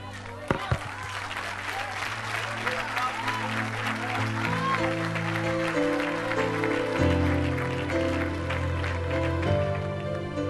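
A congregation applauds during a Pentecostal church service, a steady wash of clapping under sustained organ-like music and a speaking voice.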